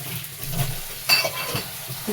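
Reddish browned onion frying in a pan as chili powder goes in, a soft steady sizzle with stirring scrapes and a brief clink of a utensil.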